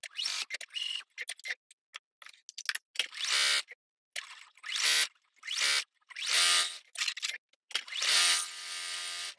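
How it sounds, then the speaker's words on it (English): A sewing machine stitches a puma muzzle onto a quilt block, its motor whirring close by in short bursts separated by pauses, and the runs grow longer toward the end. "Now we're going to just sew this little muzzle on here"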